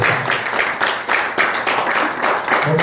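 A church congregation claps together in a full, steady round of applause with rhythmic surges, close and loud, with no talking over it.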